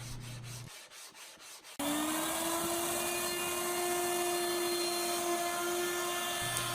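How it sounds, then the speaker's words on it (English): A wooden pyramidal keepsake box is flattened on a big sanding block. After a quieter, uneven start, a loud continuous grinding whine with a steady pitch sets in and runs unbroken to the end. "The best way to do that and to get something perfectly flat is to take it over to this big sanding block."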